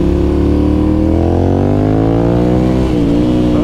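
A 2009 Ducati Monster 1100 motorcycle accelerates hard on a highway, its engine roaring loud and steady throughout while the pitch climbs through the gears, with a brief dip near the end as it shifts.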